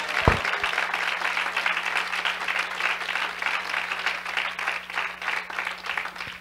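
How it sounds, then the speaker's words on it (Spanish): A church congregation claps steadily together, a continuous wash of hand claps at moderate volume with a low hum underneath and no clear speech. "Alguien aplauda al Señor en esta hora."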